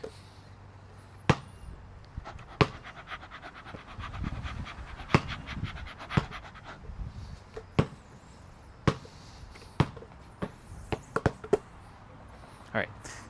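A person imitates a dog panting with quick rhythmic breaths, mixed with sharp thuds from a bouncing basketball and scattered knocks nearby.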